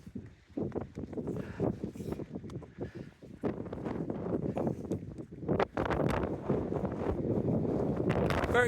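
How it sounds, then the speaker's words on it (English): Strong wind buffets the microphone on Dartmoor near Black Tor in wet, rainy weather, a loud continuous roar with gusty surges that builds toward the end; no voices come through clearly. "Very windy."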